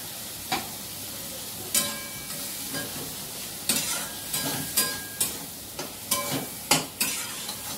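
Ground poppy seed and mustard paste gets stirred into a hot frying pan, a spoon knocking and scraping the pan in irregular clicks over a soft, continuous sizzle, close and clear without voices.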